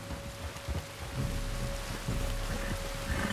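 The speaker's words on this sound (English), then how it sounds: "You were right about the damn rain." Steady rain hisses down in the video game Red Dead Redemption 2 while low thunder rumbles faintly in the distance, with a thin constant tone running underneath.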